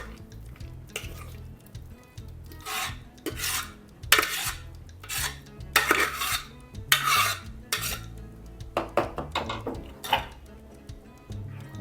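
A thick curry of tapioca, taro and chickpeas in masala is stirred in a pot, with a spoon scraping and clinking against the metal in uneven, rhythmic bursts at close range. No one speaks.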